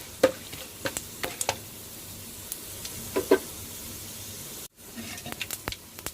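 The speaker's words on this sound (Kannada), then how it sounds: "ನೋಡಿ ಸಾಸಿವೆ ಸಿಡಿದಿದೆ, ಕಡಲೆಬೇಳೆ ಕೂಡ ಕೆಂಪಗಾಗಿದೆ" Mustard seeds and chana dal fry in oil with a soft, steady sizzle, broken by scattered sharp pops from the seeds, close and fairly quiet, with one brief dropout near the end.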